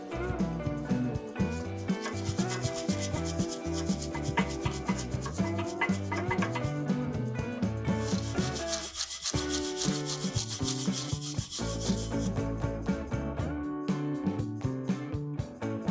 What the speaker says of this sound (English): We just want to clean off the old dust, and if there's a little bit of rust, just clean them off